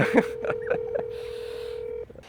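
Telephone keypad tones beep in quick succession while calling an auto repair shop, followed by a long steady line tone that stops abruptly, with a voice briefly heard at the start.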